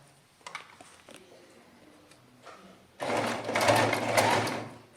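A sewing machine runs close and steady in a straight stitch around a slipper upper, starting abruptly after a few quiet handling knocks and whirring continuously to the end.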